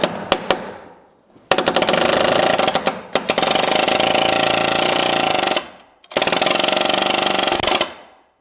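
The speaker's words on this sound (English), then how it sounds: "check this palm nailer out" Palm nailer hammering nails into joist hangers while framing a staircase: a few quick taps, then long sustained bursts of rapid loud pounding, separated by brief pauses.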